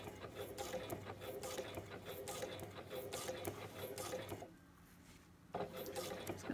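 Sewing machine stitching an invisible zipper close to its teeth, a rapid rattling run for about four seconds, a brief pause, then the needle starting again, close and with no talking.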